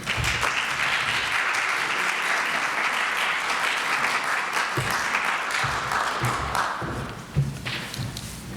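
An audience breaks into sustained applause to welcome a speaker at a lecture, steady clapping that fills the hall before tapering off, with a few thumps near the end.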